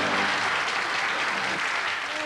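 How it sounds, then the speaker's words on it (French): A theatre audience at Cannes breaks into dense, sustained applause, a loud unbroken wash of clapping filling the whole stretch. "Merci pour tous ces applaudissements qui ont été nourris au grain."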